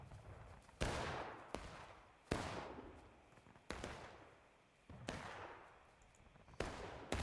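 Gunfire in an online military video game battle on a crowded public server: six or seven sharp, loud shots at irregular intervals, each ringing out in a long echoing decay, with no talk.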